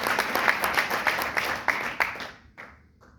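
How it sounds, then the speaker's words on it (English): A small group claps in brief applause, distinct individual claps close by in a quick irregular rhythm that thins out and stops near the end. "Give a round of applause to her."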